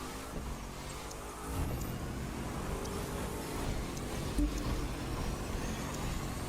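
A car in The Crew 2 racing game accelerates on full throttle for a quarter-mile speed trap run, a steady loud engine roar that swells slightly and holds through the clip.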